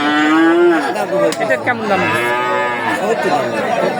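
Cattle at a rural livestock market in Bhangura, with a loud, close, drawn-out moo at the start, more lowing behind it, and people talking in the background.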